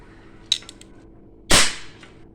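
A handheld gun, apparently a toy or cap-type pistol, fires once with a sharp close crack after a few small mechanical clicks, leaving a short decaying tail in an otherwise quiet space.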